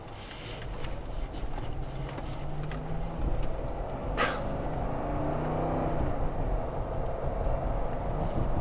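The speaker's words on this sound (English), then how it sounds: "rear suspension's a little loud. I think it's because we didn't put the rubber stops on the top of the springs. So it's just kind of metal on metal at the back" Lincoln Town Car built for the Gambler 500, driven at about 50 mph with rubber stops missing from the tops of the rear springs, so the rear suspension knocks metal on metal under a steady, loud road and engine rumble.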